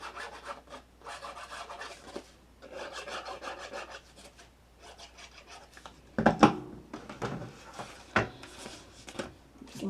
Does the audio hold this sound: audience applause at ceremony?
no